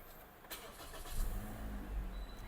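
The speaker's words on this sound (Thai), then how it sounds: "สตาร์ทรถ" A 2018 Toyota Altis 1.6G sedan's engine starts with a short crank, then settles into a low, steady idle, heard fairly faint from inside the car after a couple of clicks.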